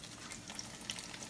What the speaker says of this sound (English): Just listen to that the sizzle.